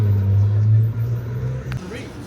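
Engine of a Whipple supercharged Ford F150 truck idles and rumbles steadily up close at a race, a low droning tone that fades slightly near the end, with voices talking faintly in the background.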